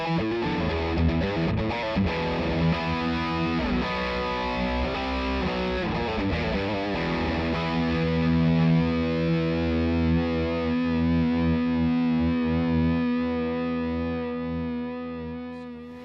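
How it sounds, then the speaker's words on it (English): A heavily distorted electric guitar plays chunky chords and riffs through a VOX MV50 amp on its high-gain rock setting, loud and sustained, no voices. "rock is for classic high gain tones"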